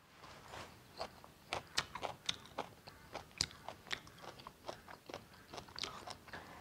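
Someone bites and chews crunchy preserved dried cauliflower close to the microphone, giving a quick run of crisp, irregular crunches with small gaps between them and no talking.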